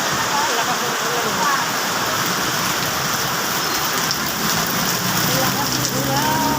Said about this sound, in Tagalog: Ang lakas ng ulan, tingnan niyo.